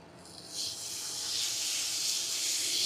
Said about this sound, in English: I just put that steak on to sizzle